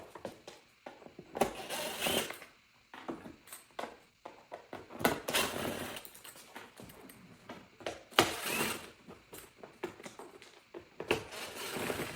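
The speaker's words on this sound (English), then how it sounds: "I'll go ahead and remove these 2, 4, 6, 8 bolts from the bottom, and the seat will be released" A ratchet clicks in repeated bursts while bolts come off the underside of a Stark VARG electric dirt bike seat, its close, quick pawl chatter starting and stopping between pauses, with no talking.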